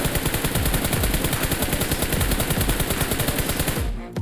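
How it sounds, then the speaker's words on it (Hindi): Rapid automatic gunfire in Battlegrounds Mobile India, a loud, sustained burst of evenly spaced shots that cuts off abruptly near the end. "जैसे मैं इस टाइम फायर कर रहा हूँ"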